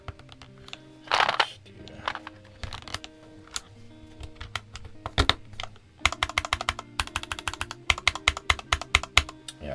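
Typing on a Ranked Nova n60 60% wired mechanical keyboard fitted with 1.5 mm thick keycaps: sparse clacking keystrokes that speed into dense, rapid bursts of loud, close clicks, with no voices.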